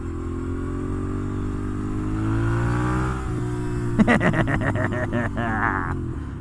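A Moto Guzzi Griso motorcycle engine with its exhaust baffle removed drones steadily, then revs up sharply in a series of quick bursts as it downshifts, loud and close.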